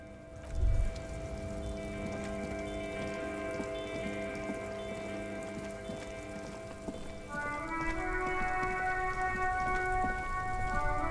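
Steady rain falls in the detective game Disco Elysium, a soft even patter under layered sustained ambient music tones, with a faint low thump near the start and no talking.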